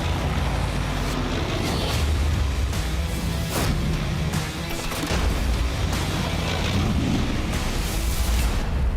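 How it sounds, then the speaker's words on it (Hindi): Heavy booming from tanks and cannon firing during an intense military exercise, with repeated low blasts rumbling over continuous loud, dense background noise for the whole stretch. "टैंक तोप के गोलों के बीच भीषण अभ्यास।"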